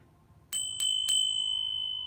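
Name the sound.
Korean bell ringing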